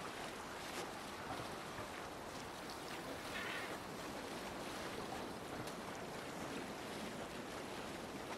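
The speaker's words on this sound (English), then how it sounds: "I love when it allows me to instantly set sail." A longship sails across open water in Assassin's Creed Valhalla, a continuous broadband wash of waves, surf and wind rushing steadily with no talking.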